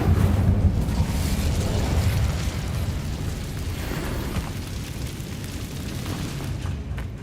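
The Incendio fire spell in Hogwarts Legacy roars as a dense, rumbling whoosh of flame that starts loud and slowly fades over several seconds, with no talking.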